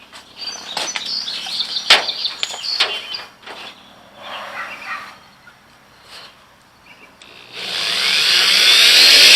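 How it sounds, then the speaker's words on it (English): A power drill bores holes to mount a ladder rack on a Dodge Dakota pickup truck; scattered clanks and handling sounds come first, then the drill whines up loudly and steadily near the end. "I'm going to drill a couple of holes."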